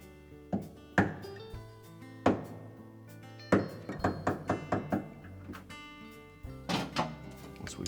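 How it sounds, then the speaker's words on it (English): A small metal punch tapped against a pin to drive it into a Frigidaire refrigerator cavity during crisper support replacement, several sharp close knocks, a quick run of lighter taps in the middle, then two more firm hits. "with either a small punch or a small flat blade screwdriver, we'll line it up on that pin and just tap it into the cavity"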